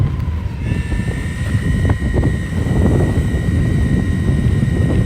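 Electric skateboard ridden at full throttle outdoors, a steady whining motor tone with rising pitch over broadband wind and road rumble, continuous and close throughout with no talking.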